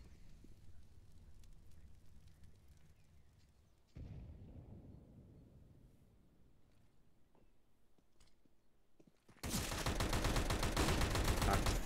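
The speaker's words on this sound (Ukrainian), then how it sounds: "починають стріляти, та стріляють вони недовго" Gunfire erupts in a Counter-Strike match on the Inferno map, a sudden dense burst of rapid shots that follows quieter rumbling, loud and sustained through the final seconds.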